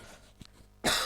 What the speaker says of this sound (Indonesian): maaf, saya sedikit batuk